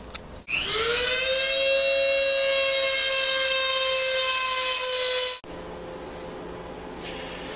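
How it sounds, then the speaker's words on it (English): A Dremel rotary tool grinds bolt holes square in an old Ford plow during restoration, a loud steady high whine that spins up sharply and holds, then cuts off, leaving faint background noise. "So I'll use a Dremel tool to do that."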